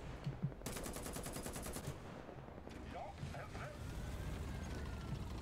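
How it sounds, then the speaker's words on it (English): A machine gun on a tank with a 150 mm cannon fires in a tank video game, a rapid rattling burst heard amid game noise and a quieter background. "Oh, it has a machine gun."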